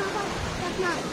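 Water flowing from a spring at a site in Kashmir, a steady close rushing and gurgling wash, with a voice faintly present underneath.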